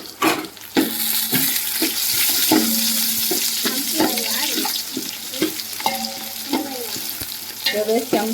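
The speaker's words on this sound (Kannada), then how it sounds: "ಉಳ್ಳಾಗಡ್ಡೆ ಮೆಣಸಿನ್ಕಾಯಿ ಬೇಸ್ ಫ್ರೈ ಆಗ್ಯಾವ" Onion and green chili fry in a pan for pulao with a steady close sizzle, broken by repeated stirring scrapes and clinks of a spoon against the pan.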